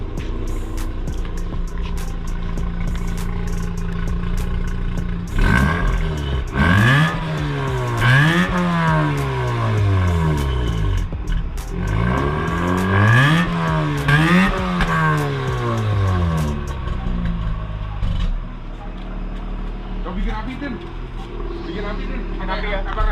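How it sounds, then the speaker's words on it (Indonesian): A manual Mazda RX8 Series 2 with a rotary engine sits warmed up and gets revved twice in long rising-and-falling blips, loud and close, with a steady idle before, between and after. "Buat yang penasaran, nih kita gas nih ya."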